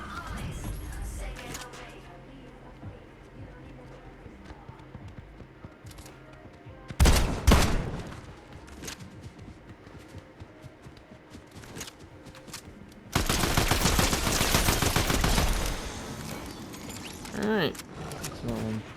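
Bursts of automatic gunfire from a Fortnite weapon: a brief loud volley early on, then a longer sustained rapid stream of shots later, with quieter game mechanisms and clicks between.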